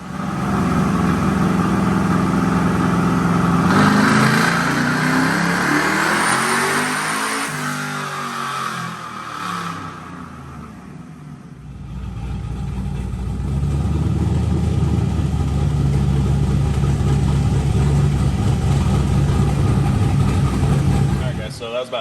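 A Whipple-supercharged LS7 engine on an airboat revs up loudly in a rising then falling sweep, drops briefly, then settles back into a loud, steady high-idle roar.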